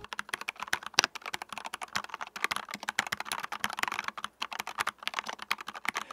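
Rapid typing on a Fantech One Piece limited edition gaming keyboard, a dense run of crisp, clacky keystrokes close to the mic, steady and fairly quiet with no voices.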